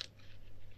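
Sticky slime gives a quick, close crunch, one short crisp squish in a quiet room.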